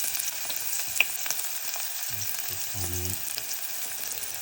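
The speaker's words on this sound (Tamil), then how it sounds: "ஆயில் நல்லா ஹீட் ஆனதுக்கப்புறம் ஆனியன் போட்டுக்கலாம்" Chopped onions frying in hot oil in a pan while cooking a vegetable kurma, a soft steady sizzle with a few brief low clatters midway, fairly quiet and without talk.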